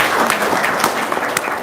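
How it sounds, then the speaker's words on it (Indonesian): An audience claps in sustained, dense applause at an indoor testimonial event in Palembang, fairly close and even, with a few sharper claps standing out and a faint voice underneath. "Tepuk tangan dong."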